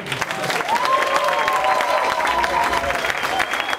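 Audience at a spoken-word performance breaks into lively clapping with cheering and whoops, a dense, steady burst of applause filling the room.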